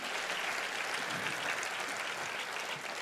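Church congregation applauding loudly and steadily at a sermon, a dense, even wash of many hands clapping throughout with no pause.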